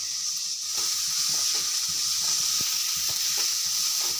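Crushed garlic and finely chopped onion fry in a pan for a fish and brinjal dish, a loud, continuous sizzle close up, with occasional faint clicks of stirring and no talking.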